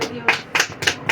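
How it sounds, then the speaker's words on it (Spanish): Church congregation applauding during a sermon, heard as four distinct bursts of clapping about a quarter second apart, close and moderately loud. "Antes le regalo un aplauso al Señor."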